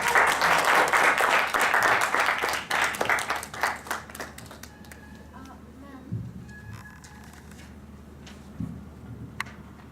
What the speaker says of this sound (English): Yeah, let's clap.